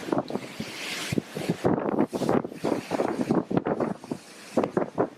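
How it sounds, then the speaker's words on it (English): Strong gusts of wind buffet the microphone on the outdoor deck of the Ruby Princess cruise ship in rough, uneven bursts, with a low rumble underneath and no one speaking. "it's really windy and cool out."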